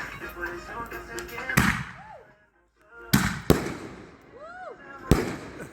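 Rapid-fire fireworks explode outdoors on New Year's Eve on the bayou. Sharp cracking blasts are heard along with rising whistles and crackle, and voices come in between the bursts.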